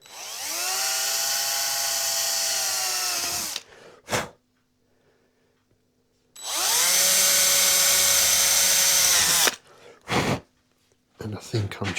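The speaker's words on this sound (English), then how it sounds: "drill a couple of holes through there." A high-pitched power drill with a small bit whines steadily for a few seconds boring holes in a Flying V guitar neck, stops, then runs again in a second long burst, with short clicks and handling noises between.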